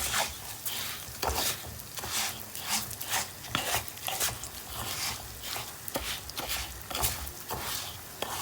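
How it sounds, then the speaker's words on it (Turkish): A spoon scrapes and stirs through rice pilaf in a pot as salt is mixed in, giving repeated rhythmic rasping strokes about once a second over a soft sizzle, close and moderately quiet. "Tuzunu da şöyle biraz karıştırıyorum."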